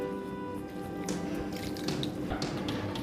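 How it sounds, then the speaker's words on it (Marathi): Water from boiled noodles dripping and trickling through a colander in a home kitchen, a steady close wet patter with small splashy drips throughout. "त्यातलं पाणी नितळतं आहे"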